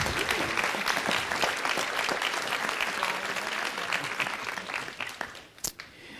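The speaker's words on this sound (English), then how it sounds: "Let's give the students another round of applause." A city council meeting audience applauds a group of students, dense clapping that starts strong and gradually thins out, with a few last isolated claps near the end.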